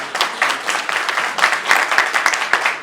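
An audience at a Jewish Community Council of Boro Park legislative event breaks into brisk, sustained applause, many hands clapping at once for a few seconds.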